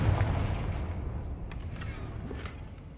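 Confringo explosive spell going off in Hogwarts Legacy, a loud booming blast at the start that rumbles and fades into a lingering crackle over three seconds.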